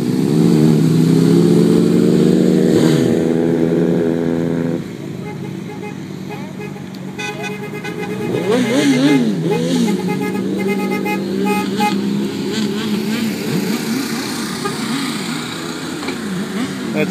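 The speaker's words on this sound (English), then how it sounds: "here comes the caravan arriving" A caravan of cars and motorcycles arrives on a street in Hinesville, Georgia, with loud, repeated horn honks early on, then steady engine and traffic noise with more scattered toots, close by and continuous.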